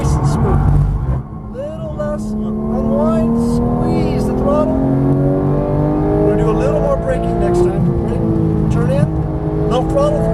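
Porsche GT3 race car at Las Vegas Motor Speedway, engine loud and close, climbing in pitch through two upshifts, with an instructor talking over it throughout.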